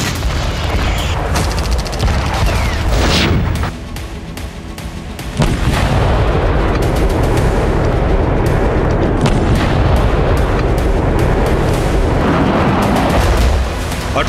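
Heavy bombs and missile strikes explode over towns in southern Lebanon during an Israeli air raid, a dense continuous barrage of loud booms and rumbling blasts with a brief quieter lull before the pounding resumes.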